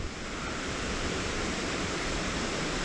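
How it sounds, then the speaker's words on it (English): A hidden waterfall in the wild, heard as a steady, dense roar of falling water that fills the whole stretch without a break, unchanging and close, with no voices. "I can see water falling there"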